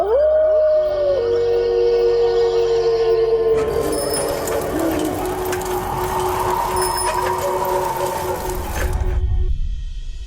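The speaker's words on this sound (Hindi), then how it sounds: "राजा के कमरे की खिड़की के बाहर बहुत सारे कुत्ते आ चुके हैं।" Many dogs howl outside a window, long wavering cries that rise and fall over a steady drone, loud and continuous with a dense chorus joining midway and no talk.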